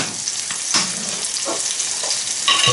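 Dover sole on the bone pan frying in butter, a loud close steady sizzle with occasional crackles and pops.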